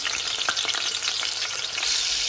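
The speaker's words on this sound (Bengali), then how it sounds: "এখন তেলটা গরম হয়ে আইসে, আস্তে আস্তে আমি গ্রেট করা রসুন দিলাইমু" Grated garlic fries in hot oil with a dense, steady, crackling sizzle and occasional stirring, close and continuous, with no voices.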